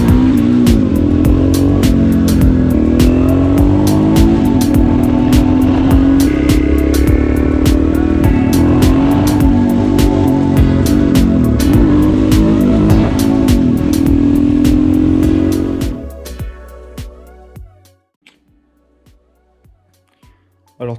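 A KTM 640 LC4 supermoto motorcycle engine runs loud and close, its revs swelling and falling repeatedly, then it shuts off, leaving a few faint ticks in near silence.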